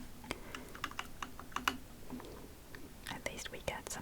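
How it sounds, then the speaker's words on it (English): Computer keyboard keys and mouse buttons click in quick irregular taps while Shapez 2 is played, soft and close, under a quiet whispering voice. "at least we get some clicking noises"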